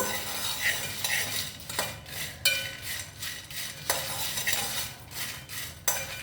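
Whole cardamom and mace are dry-roasted and stirred in a pan, giving repeated close scraping strokes of a spatula against metal and a faint rattle of the spices, about one stroke per second, with no talking.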